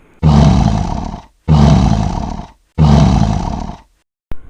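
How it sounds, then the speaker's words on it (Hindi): Three powerful lion roars come one after another, each a long, loud, close growling blast separated by short pauses, with no voices present. "पूरा जंगल शेर की दहाड़ से गूंज रहा था।"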